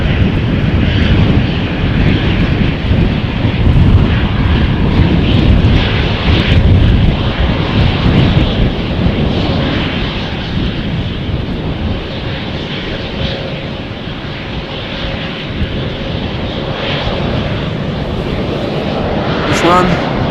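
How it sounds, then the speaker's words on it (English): An Embraer 190 jet airliner departs runway 36L at Amsterdam Schiphol, its engines a loud, broad rumbling roar that swells and then eases slightly as it climbs away. "Meanwhile, I can hear the next Embraer"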